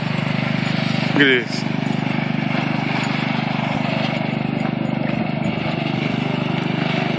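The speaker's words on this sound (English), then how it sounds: "a little ass lawnmower that's gonna burn" A small lawn mower engine running steadily with a low droning hum, while someone talks briefly over it and a short sharp noise cuts in near the start.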